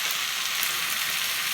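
Green onions straight from the freezer sizzle steadily in a hot pan of stir-fried rice, a dense, even hiss that holds constant throughout with no voices.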